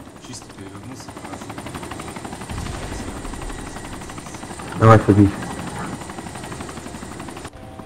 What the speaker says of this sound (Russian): Вовремя я вертушку спер.